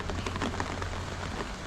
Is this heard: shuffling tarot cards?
no